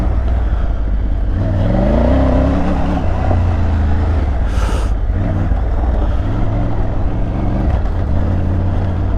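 A 2020 Triumph Tiger 900 Rally Pro motorcycle ridden off-road, its engine droning loud and steady with a rising rev as it accelerates over berms, accompanied by rumbling wind and ground noise throughout.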